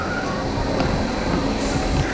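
A Southern class 313 electric train pulling into Havant station, a steady broad rumble of wheels and motors with faint rail clatter throughout.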